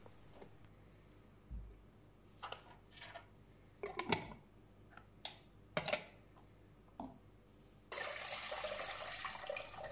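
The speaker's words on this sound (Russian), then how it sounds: "Сливаю воду в кастрюлю." Water is poured into a pot in a kitchen while cut tomatoes are canned. Scattered clinks and knocks come first, then a steady, close splashing pour for the last couple of seconds.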